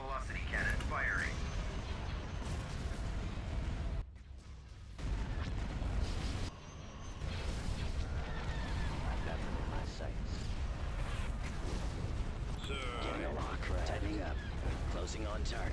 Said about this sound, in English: Hypervelocity cannon firing.